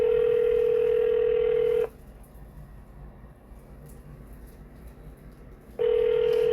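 Ringback tone on a phone call to a congressional office: a loud, steady electronic tone sounds for about two seconds, stops for a few seconds of faint line hiss, then starts again.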